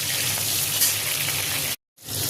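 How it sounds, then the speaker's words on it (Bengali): Potato and cauliflower pieces fry in oil in a pan, a steady close sizzle with faint crackle, cutting out abruptly near the end before resuming. "আলু ফুলকপিটা দিয়ে দিয়েছি, ওই দুটো একটু ভাজা ভাজা হবে"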